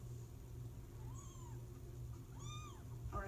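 Two rising-and-falling kitten meows, the second louder and clearer, sound indoors over a steady low hum.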